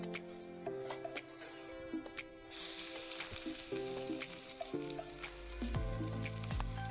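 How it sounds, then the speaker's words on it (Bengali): Onions dropped into hot oil in a pot on a home stove, a loud sizzle bursting in partway through and continuing steadily, with a faint tonal hum underneath and no talking. "তেলটাকে গরম করে নিয়ে মা তাতে এখন পেঁয়াজ ঢেলে দেবে।"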